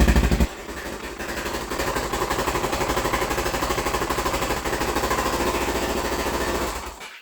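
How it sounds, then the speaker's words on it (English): A built Honda TRX700XX ATV engine cranks and fires up abruptly, then settles into a loud, steady, rapid idle with an even throbbing pulse, close by with no talk, until it cuts off at the end. "I'll start it up real quick."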